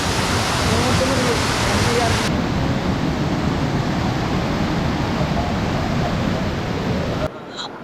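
Khoiyachora waterfall in the monsoon pours with a strong, continuous roar of heavy water, loud and close throughout before cutting off abruptly near the end.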